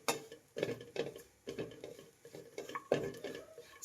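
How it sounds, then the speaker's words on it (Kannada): Dry grated coconut is fried and stirred in a pan over a medium flame, with soft, intermittent scraping and clattering strokes heard up close at low volume. "ಮೀಡಿಯಂ ಫ್ಲೇಮಲ್ಲಿ ಇಟ್ಟು ನಾವು ಫ್ರೈ ಮಾಡಬೇಕು."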